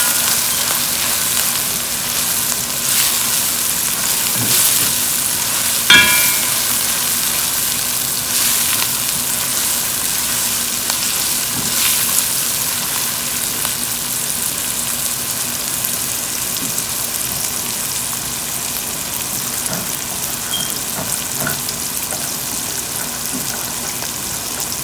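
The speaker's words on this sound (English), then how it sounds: "our nuts got fried very good" Nuts fry in a pan for Saudi kabsa, making a dense, even, rain-like sizzle that runs continuously at a fairly loud level, with an occasional faint click.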